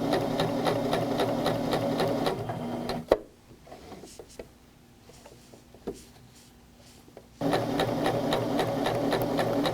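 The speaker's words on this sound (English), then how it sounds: "And then go ahead and sew on out to the tip." Domestic sewing machine stitching a quilt block, a fast steady mechanical whir that stops for a few seconds, leaving soft clicks and handling noises while the fabric is repositioned, then resumes at full speed.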